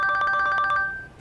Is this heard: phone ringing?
yes